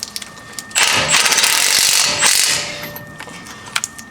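A Milwaukee impact wrench tightens a 21 mm brake caliper bracket bolt on a 2009–2014 Ford F-150 during a front brake install, giving one loud rattling burst of about two and a half seconds, followed by quieter clicks.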